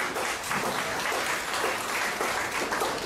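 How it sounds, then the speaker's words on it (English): Sustained audience applause at a press event, a dense wash of many hands clapping steadily throughout at moderate loudness with no pauses. "I just give a special round of applause to Mr. Fraser."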